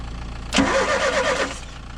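Ford Transit Mk2 camper van engine turning over briefly on its starter, a short mid-pitched cranking whirr lasting about a second over a steady background hum, without catching.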